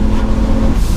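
A tuned Volvo 850 estate with over 300 bhp accelerates hard on a country B road, its engine giving a loud, steady drone close up for a brief moment, with no voices.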